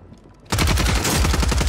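Rapid, sustained bursts of Superi 46 SMG fire in the video game Warzone, loud and close, starting abruptly after a quiet moment and continuing as a dense, rattling stream.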